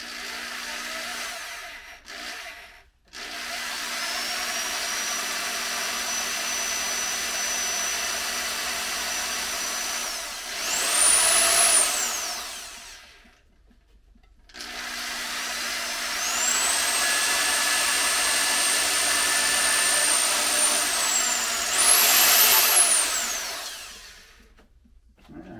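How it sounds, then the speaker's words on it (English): A power drill boring holes for a tremolo claw in a vintage guitar build, two long whining runs of the motor with rising pitch bursts as the bit bites into wood, loud and close, with a brief stop between them. "So I'm just going to go ahead and carefully drill holes here for the claw."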